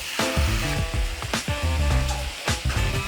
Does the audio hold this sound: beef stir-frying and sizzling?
yes